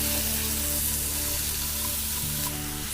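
Onions fry for chilli paneer over medium-high heat in a pan, giving a steady, close sizzle that crackles evenly throughout with no voices.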